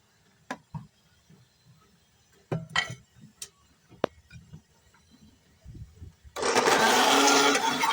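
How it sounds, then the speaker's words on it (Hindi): Peeled bananas are ground into a paste in a kitchen juicer. Scattered light clinks and taps give way to the motor kicking on loud and close, then a sustained whirring grind that runs to the end. "अब हम जूसर में डालकर इन्हें पीस लेंगे"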